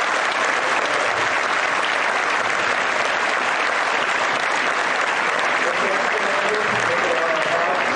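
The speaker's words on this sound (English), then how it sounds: "round of applause" A school assembly audience applauds World War II veterans at a Veterans Day event, loud sustained clapping from a large crowd in a gym-like hall, continuous and even throughout.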